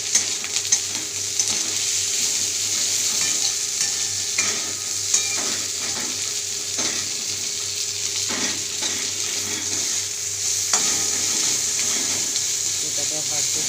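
Hilsa fish head and prawns fry in a pan with chillies, giving a continuous close sizzle broken by repeated clattering stirs and scrapes of a spatula.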